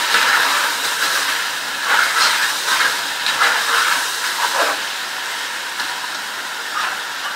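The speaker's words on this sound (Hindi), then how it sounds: "तब तक इसको भूनेंगे।" Ginger and garlic paste fries in a pan for chicken do pyaza, giving a continuous loud sizzle and hiss with small surges as it is stirred, close and alone.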